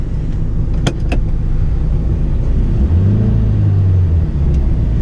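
Steady engine drone and road rumble inside a moving 1985 Toyota Corolla II SR AL21 with an electronic carbureted engine that is slightly out of tune. A low tone rises and falls midway, with a couple of faint clicks early on.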